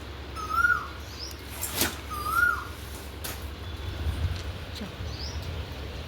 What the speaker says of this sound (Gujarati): અમારે અહીંયા કોયલ મસ્ત બોલે છે